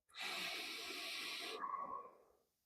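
One long, deep breath drawn in through the mouth during a guided breathing exercise: a close, airy hiss lasting about two seconds that fades out gently, with no talking.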